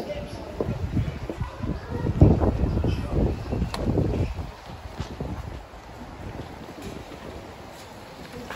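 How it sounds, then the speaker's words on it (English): Gusty wind buffets the microphone outdoors, loud low rumbling bursts that ease off after a few seconds into a steadier, quieter rush, with a voice speaking over it. "Very windy. I don't know if you're picking it up."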